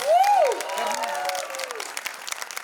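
A crowd applauding with some cheering, a loud rising whoop at the start over continuous clapping.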